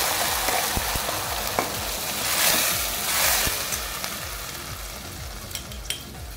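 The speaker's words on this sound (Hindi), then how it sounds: "इसको हम भून लेंगे, थोड़ी देर हम इस पेस्ट को भून लेंगे ढककर" Ginger paste, cumin and ground masala frying in a tablespoon of oil make a loud, continuous crackling sizzle with rising and falling swells and occasional stirring clicks close by, without speech.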